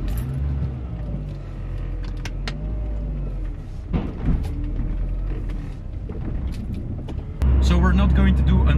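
A MINI R53 on new tyres pulls away, its engine and road noise building under talk, with mechanical clicks and a thump before the engine note rises sharply near the end.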